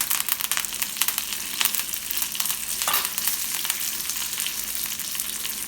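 Curry leaves crackle and sizzle loudly in a hot iron kadai with cabbage, a dense continuous frying hiss with a few sharper pops, steady throughout.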